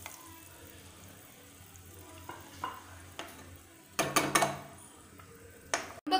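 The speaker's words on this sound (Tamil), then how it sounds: "இப்போ இது கொதிக்குது இந்த எக்ஸ் அப்படியே ஊற்றிக்கலாம்" Egg gothsu, a Tamil egg gravy with eggs poured in whole, simmers in a pan with a low, steady bubbling hiss, broken by a few sharp clanks and scrapes of a stirring utensil.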